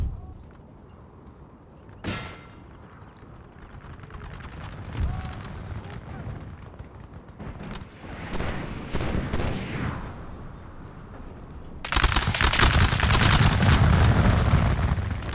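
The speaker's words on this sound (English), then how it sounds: "Let's have all of our artillery batteries target the Mameluke cavalry." A Napoleon-era game battle at low level: artillery batteries fire on Mameluke cavalry, with a sharp boom near the start, scattered crackling shots and a louder, dense barrage building toward the end, under intermittent talk.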